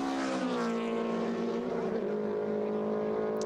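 A classic racing car laps Knockhill circuit, its engine note a sustained, fairly close drone with rising and falling harmonics as it passes, no talk over it.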